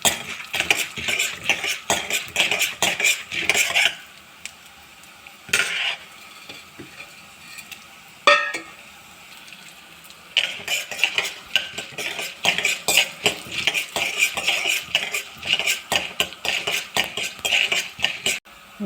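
Urad dal, dried chillies and garlic fry in oil in a kadai, stirred with a metal spoon that rattles and scrapes rapidly in bursts over a light sizzle, pausing briefly midway, close up with no speech.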